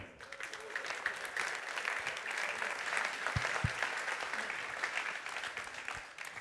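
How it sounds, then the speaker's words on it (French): Sustained audience applause fills a gala evening for supply chain directors, a dense, even wash of many hands clapping at moderate distance, steady throughout with a couple of brief low thumps near the middle. "Vous pouvez vous applaudir et merci beaucoup."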